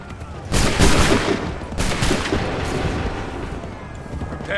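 Musket volley gunfire in Assassin's Creed III, two loud, booming rolling volleys of many shots fired together about a second apart, each trailing off into a long reverberant rumble.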